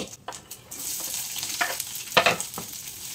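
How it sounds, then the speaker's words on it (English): Chopped onion sizzles steadily in a pan over low heat, with a few sharp scraping stirs of a utensil breaking through the hiss; close and moderately loud, no talking. "So after seasoning, I'm adding chopped onion directly"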